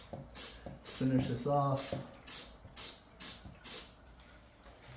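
Several short, sharp hisses from a spray bottle in quick succession, with someone speaking briefly between sprays.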